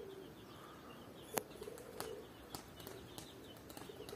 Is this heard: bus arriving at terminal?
no